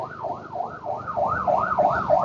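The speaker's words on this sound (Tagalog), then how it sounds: "May ambulansya." An ambulance siren wailing in repeated rising and falling sweeps on a rainy road, loud and fairly close, with traffic rumble underneath and no talking.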